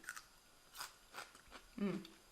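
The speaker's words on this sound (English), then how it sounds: "When you eat it, it's pretty crunchy." Crisp crunching bites into a firm, juicy cucumber lime pickle, a few sharp crunches followed by chewing, fairly quiet and close.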